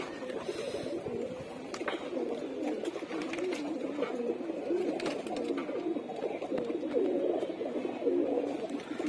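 Pigeons coo continuously in a loft, a steady low murmur of overlapping calls from several birds, fairly close and unbroken.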